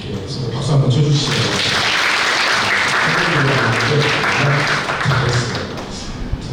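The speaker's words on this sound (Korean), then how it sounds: "박수 한번 쳐주시죠." A room of parents at a parent school session applauds, a loud, continuous clatter of clapping with low murmuring voices mixed underneath.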